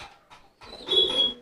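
Crested pigeon giving a soft, short coo, a brief low call after a couple of faint murmurs, heard alone and fairly quiet.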